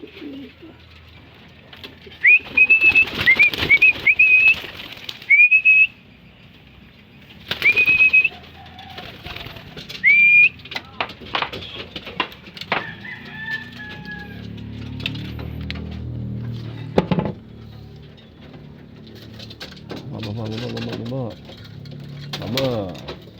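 Racing pigeons coo and bursts of wing flapping come and go, with a voice talking at times and rustling and patter in the background.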